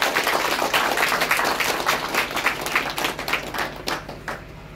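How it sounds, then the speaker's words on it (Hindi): Audience applause at a retirement farewell party for a zonal education officer, a dense continuous clapping that fills the room and slowly thins toward the end. "आपकी तालियों के गड़गड़ाहट एक लम्हे तक रुकनी नहीं चाहिए।"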